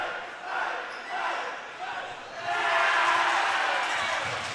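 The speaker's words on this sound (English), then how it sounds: "They're cheering themselves for making her miss down there." A group of boys cheers and shouts from under the basket during a girls high school basketball game, a steady crowd roar that swells louder midway, with an announcer talking over it.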